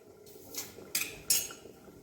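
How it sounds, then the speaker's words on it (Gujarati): A lid goes onto a pot of Punjabi spinach curry with three quick metallic clinks and clanks, close and fairly quiet, in an otherwise calm kitchen. "તો ચલો આને ઢાંકી દઈ અને થોડી વાર થવા દો."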